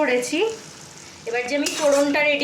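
Sizzling as a spiced tempering is poured onto prawns frying in a pan, a bright hiss swelling in bursts over a steady crackle, with a voice speaking over it.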